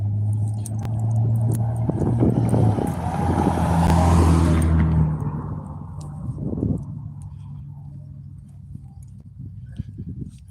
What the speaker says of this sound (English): Ah, there's a car coming.